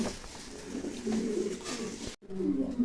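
Pigeons at a farm, high-quality show birds kept in pairs, coo in low, rolling calls that repeat steadily and close by over faint background noise, with a brief drop out near the end before the cooing resumes.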